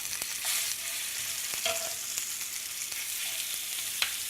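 A seasoned halibut fillet sizzles in grapeseed oil in a pan, making a steady close frying hiss dotted with small pops and a few sharper crackles.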